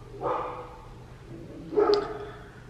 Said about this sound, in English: while the dog barks, I'm going to continue to eat